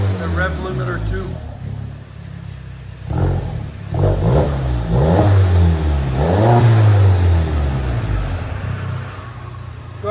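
Straight-piped 2.0L turbo Audi A3 exhaust revs repeatedly toward the rev limiter, loud and close, with rising and falling pulls and a voice talking over part of it.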